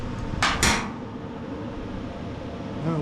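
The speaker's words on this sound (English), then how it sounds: "Now we'll tighten this bolt" A wrench or tool on a bolt of a Honda GCV160 engine on a Simpson pressure washer gives two quick, close metallic clinks near the start, then only a quiet background hum.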